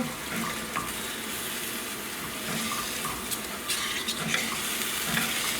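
Apple butter glaze stirred in a pan and brought to a boil for roasted deer backstraps, a steady bubbling sizzle with scraping stir noises running continuously, fairly close, no voices.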